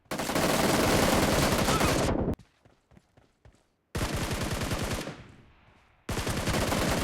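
Automatic gunfire in the video game PUBG played on a Samsung Galaxy S23 Ultra, loud rapid bursts of shots lasting about two seconds each, separated by short quieter gaps, with no talking.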